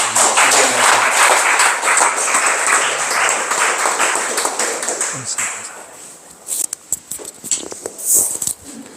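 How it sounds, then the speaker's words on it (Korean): A congregation at a children's and teens' Sunday church service applauds the pastor, a dense burst of clapping that lasts about five seconds before breaking into a few scattered claps and taps. "목사님께 감사의 박수 부탁드립니다"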